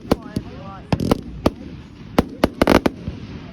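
Bonfire Night fireworks burst overhead in sharp, irregular cracks and bangs, some close together in quick clusters, with crackling fizz between the louder pops.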